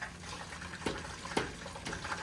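Tap water runs and splashes steadily onto a frozen block of beef in a kitchen sink, a continuous gushing wash with a couple of sharper spatter bursts.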